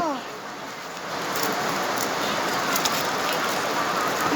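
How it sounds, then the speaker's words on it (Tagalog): Heavy rain pouring down in a loud, dense, continuous hiss of drops striking surfaces, steady and close, growing slightly stronger after the first second. "Grabe yung lakas ng ulan."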